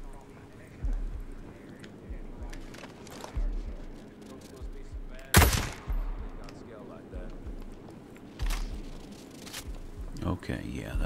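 Gunfire in the tactical shooter Ghost Recon Breakpoint, a few sharp bursts with one loud crack near the middle, mixed with game ambience while a voice speaks over it.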